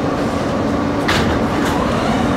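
An MTA New York City R160 subway car running on the Z line, a steady loud rumble and rail roar throughout with brief hissing swells, no talk.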